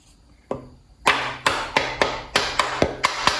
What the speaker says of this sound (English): Lightly tap it in place.